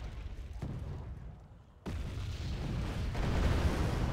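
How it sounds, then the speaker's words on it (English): An ammo box hit and exploding in the video game Wargame Red Dragon, a dull low boom followed by a sudden louder blast and a sustained rumbling roar that swells toward the end. "Oh, I hit the ammo box."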